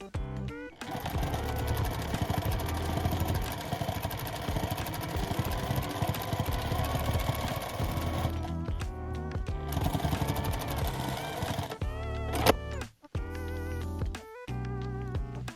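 A sewing machine stitches fabric for a tote bag in long continuous runs, close and loud, pausing briefly twice before short final bursts.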